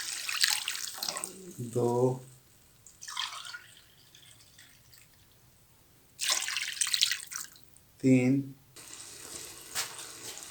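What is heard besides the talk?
glasses of water poured into cooking pot for chicken nihari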